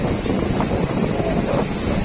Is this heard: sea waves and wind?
yes